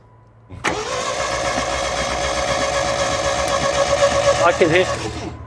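An old 16-valve Sprint sports saloon engine, sat unused for 35 years, cranks over steadily for about five seconds after an abrupt start, loud and close, with a brief wavering near the end and no clear catch.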